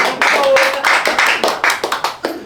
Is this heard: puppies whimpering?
no